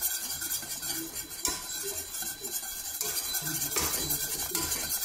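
A whisk clinks and scrapes against a bowl while butter is beaten into béarnaise sauce, quick irregular metallic taps close by and moderately quiet, with no talking.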